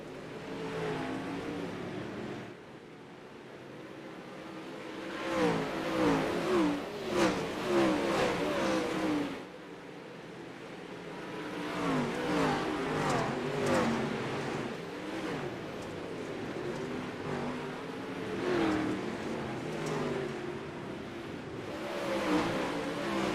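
Sprint cars race at Weedsport in the iRacing video game, a dense, continuous engine roar rising and falling as the pack accelerates, loud throughout with a brief dip partway.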